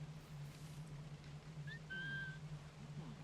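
A short whistle sounds in the video game Assassin's Creed IV: Black Flag: two brief rising tones followed by a longer steady note, fairly faint over a low constant hum, with no talking.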